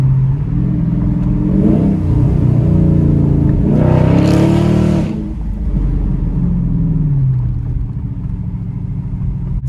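Car engine breathing through a Flowmaster Outlaw catback exhaust, revving up twice in rising, burbly pulls before settling back to a deep, steady idle rumble, close and loud with no talk.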